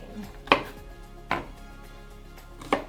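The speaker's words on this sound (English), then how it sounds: "I like to chop it like this" Three distinct knife chops on a cutting board while mincing peeled garlic for dumplings, spaced about a second apart in a quiet kitchen with faint background clatter.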